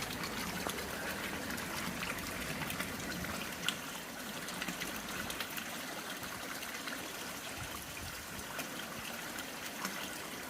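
Water trickles and drips steadily into a garden pond, a faint continuous splashing patter with a few small distinct drops and no talk.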